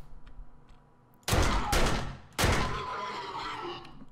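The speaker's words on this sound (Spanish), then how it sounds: "Tres tiros." Two loud, close gunshots from a firearm in the zombie survival game 7 Days to Die, fired about a second apart against quiet background ambience, each with a sharp crack and a short decaying tail.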